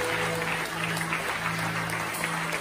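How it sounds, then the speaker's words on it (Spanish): A church congregation applauds in a dense, steady wash of clapping that fills the room from start to finish. "dale el aplauso"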